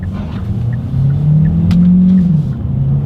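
A Hyundai car in sport driving mode revs its engine while the paddle shifters are used. The close, loud rumble climbs in pitch, then drops sharply as a gear changes, with small clicks heard over the drone.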